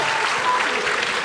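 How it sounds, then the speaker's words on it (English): An audience at a live school history quiz show gives a round of applause, a brief burst of dense, steady clapping from a room full of people. "Big round of applause."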